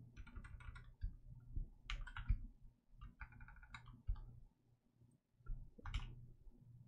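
Bursts of quick keystrokes on a computer keyboard entering Linux terminal commands, close and fairly quiet, with short pauses between runs over a low background hum.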